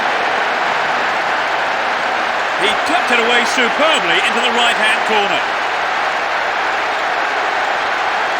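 A stadium crowd in the Pro Evolution Soccer 6 video game roars steadily after a goal in a Barcelona versus Real Madrid match, while someone commentator speaks over it.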